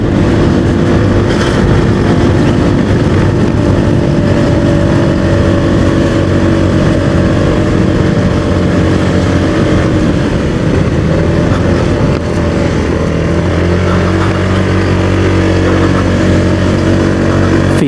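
A vehicle's engine strains loudly and steadily as it climbs a steep hill on a mountain road near Puncak via Jonggol, a continuous close droning roar with slight shifts in pitch.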